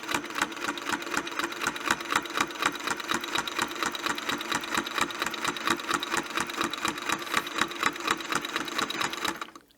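A sewing machine stitches steadily along a Westalee ruler, a fast, even mechanical chatter running continuously at close range before stopping abruptly near the end.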